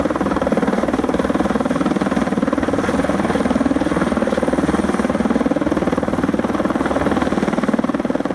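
A helicopter drones steadily overhead while clearing snowbanks too difficult to remove by ground, its rotor chop and engine roar loud and continuous throughout with no voices.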